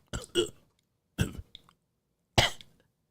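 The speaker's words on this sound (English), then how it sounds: "I think I need to pause for the cause and clear my throat on the real" Three separate throat-clearing bursts, harsh and guttural, close up with short pauses between them; the last is the loudest.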